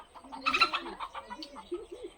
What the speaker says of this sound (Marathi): कोंबड्या घाबरतायत पण टायगर त्यांना काही करतच नाही